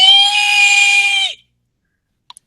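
A voice imitates a girl's high, keening screech, one sustained shrill wail lasting over a second before cutting off, followed by silence and two tiny faint clicks.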